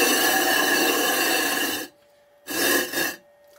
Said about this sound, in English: I like to move it around just to make sure the abrasive is distributed kind of evenly.